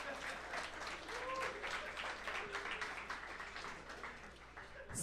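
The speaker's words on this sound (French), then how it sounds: "Fait que vous pouvez vous applaudir, vous autres aussi" An indoor audience at an evening event applauds itself, steady mid-distance clapping from a crowd lasting throughout, with a voice faintly underneath.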